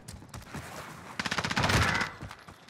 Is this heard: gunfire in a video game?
yes